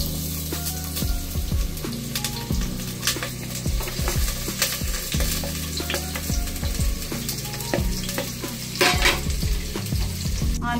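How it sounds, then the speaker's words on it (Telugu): Onions fry in a little hot oil in a pan, a continuous sizzle with repeated scraping and stirring strokes of a utensil against the pan. "ఆయిల్ వేడెక్కాక ఆనియన్స్ ఇందులో వేసుకుని"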